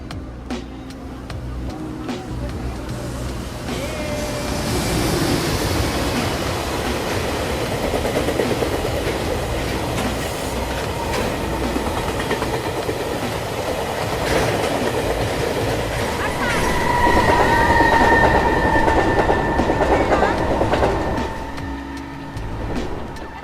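A train rumbles past on the rails through Shifen, Taiwan, its clattering wheels and rolling roar building as it nears, with a brief whistle-like squeal and faint voices in the background.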